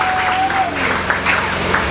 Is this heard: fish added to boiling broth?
no